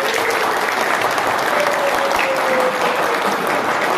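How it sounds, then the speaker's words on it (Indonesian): Guests at a wedding ceremony break into dense, continuous applause, a close and lively clapping that holds steady throughout. "Tepuk tangan."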